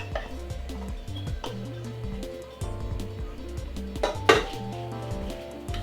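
Melted chocolate mixed into Rice Krispies in a bowl, soft repeated scraping and tapping of a spoon against the bowl with a sharper clink near the end, fairly quiet and close.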